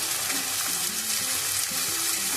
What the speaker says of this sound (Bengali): গ্যাসের ফ্লেমটা জোরে দিয়ে ভালো করে ভেজে নেবো চালটা